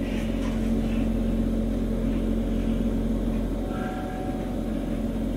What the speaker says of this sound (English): The fan motor went on really good.